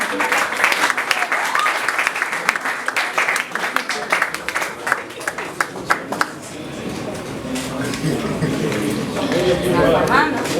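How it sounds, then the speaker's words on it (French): Applause from a comedy festival audience, with clear rhythmic claps that thin out toward the end and give way to crowd chatter and voices. "On applaudit."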